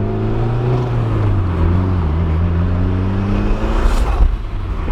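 A low-mile JDM turbo car drives along, its engine tone rising and falling in smooth sweeps through gear changes, with whirring turbo noise over a steady road rumble, heard close from inside the car.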